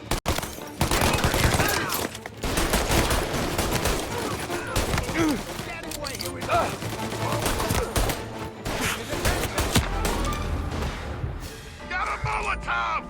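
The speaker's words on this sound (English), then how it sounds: "Gunshots heard. Please respond." Gunfire in the video game Mafia: Definitive Edition, rapid bursts and volleys of shots crackling almost continuously over several seconds, with shouting voices mixed in.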